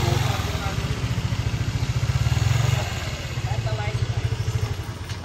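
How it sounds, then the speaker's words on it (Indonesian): A motorcycle engine runs steadily close by, giving a fast, even low-pitched pulsing throb that swells slightly and then eases, with no voices over it. "Ganda pala ng motor ni Sir Edwin eh."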